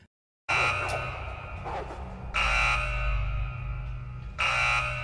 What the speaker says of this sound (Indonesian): tiba-tiba alarm kurungan milik Sean berbunyi